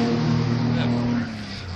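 A Morris Minor car engine runs close by with a steady, low hum, then drops slightly in level toward the end.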